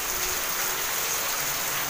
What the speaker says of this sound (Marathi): कसा पाऊस पडतोय.